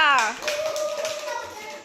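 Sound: children clapping

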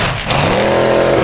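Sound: formula offroad race car revving

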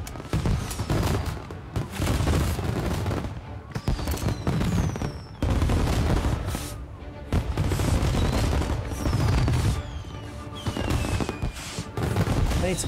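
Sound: gunfire in the video game Mafia: Definitive Edition

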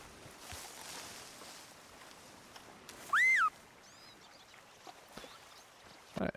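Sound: whistling to beavers in video game Red Dead Redemption 2

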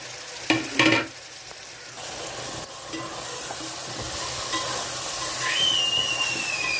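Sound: okra, tomato and curry leaves frying in a pan

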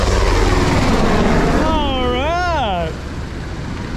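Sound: helicopter flying close overhead

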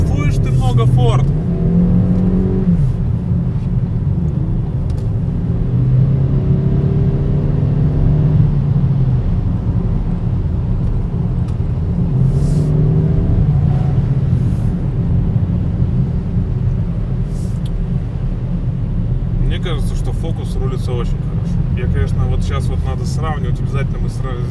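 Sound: Ford Focus engine accelerating during test drive

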